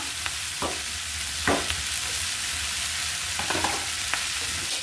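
Bitter eggplant fries in a pan with a steady, bright sizzle, joined by a few soft scrapes and clinks of stirring, close and continuous with no voices.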